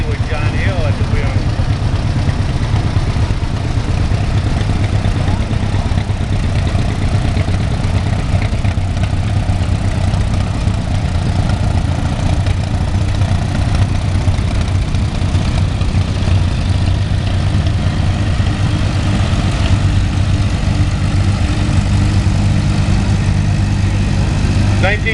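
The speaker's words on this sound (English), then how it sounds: "Farmall A with John Hill at the wheel." A Farmall A tractor engine idles steadily through a parade, a continuous low rumbling chug heard throughout with an announcer talking over it.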